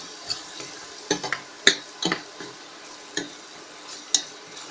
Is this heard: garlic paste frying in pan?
yes